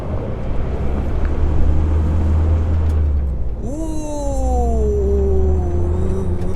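A 2022 Hyundai Tucson drives into a gravel pit with its centre differential locked and traction control on, giving a steady loud rumble of engine and road noise. A rising then falling strained whine joins partway through.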